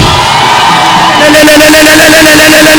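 A church congregation at a prophetic healing and testimony service erupts into loud shouting and cheering, a dense roar that swells midway and holds at full volume.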